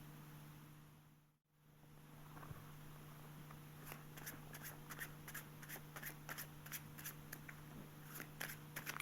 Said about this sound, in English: It's a very easy shuffle. It's called the Hindu shuffle.